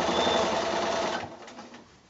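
Sewing machine stitching a quilted shoulder bag a quarter inch from the edge, a fast steady mechanical whir close by that slows and stops after about a second.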